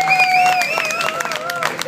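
A concert crowd at Paard, Den Haag, during the State X New Forms festival keeps clapping and cheering for a band, a continuous wash of hands with shrill whistles and voices rising above it.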